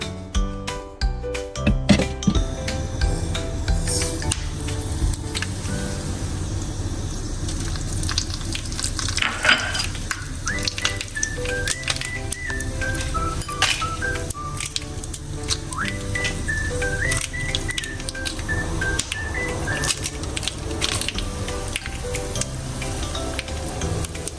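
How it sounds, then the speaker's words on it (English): A tadka tempering for Kerala fish curry sizzles and crackles steadily in a hot pan, loud and close, with occasional clinks and stirring, alone for the whole stretch. "I'm going to add the tadka now."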